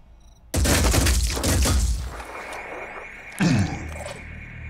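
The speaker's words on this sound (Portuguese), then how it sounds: "Vou meter tiro nele." Gunfire in the turn-based tactics game Phoenix Point as a soldier shoots an enemy: a loud burst of sharp reports and crashes, then a quieter tail and a second smaller blast near the end.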